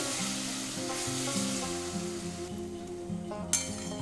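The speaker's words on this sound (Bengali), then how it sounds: "এবারে আমি জল দিয়ে দেবো" Spices and potatoes frying in a pan hiss with a loud, steady sizzle as water is poured in, a continuous close crackle with a faint clink near the end.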